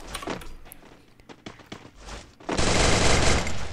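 Gunfire in the Free Fire video game comes as scattered sharp shots and clatters, then gives way to a loud, dense rush of noise in the second half.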